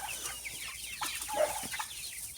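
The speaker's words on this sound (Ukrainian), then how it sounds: "І дивіться, які чудові курчата" Young chickens cluck and peep softly nearby, several short calls scattered across a quiet background.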